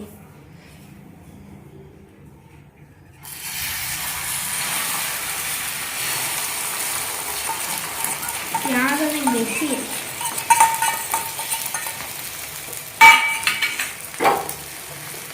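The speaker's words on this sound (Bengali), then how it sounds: "সামান্য একটু তেল দিয়ে দিয়েছি এখন আমি ডিমটা ঢেলে দেব" Beaten egg poured into hot oil in a pan for egg bread bursts into a loud, steady sizzle after a few seconds of near silence. A voice speaks briefly over it, and clatter from a utensil comes near the end.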